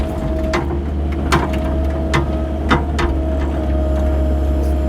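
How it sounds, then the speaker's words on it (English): Excavator bucket working while digging a storm trench, a steady low engine drone punctuated by about six sharp metallic clanks spaced roughly evenly, close and fairly loud. "The bucket's loud, I understand."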